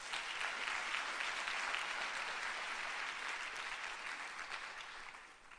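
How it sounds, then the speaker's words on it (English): A lecture audience gives a sustained round of applause, dense and even clapping from a large crowd that holds steady and then tapers slightly at the end. "I would like us to give them a round of applause"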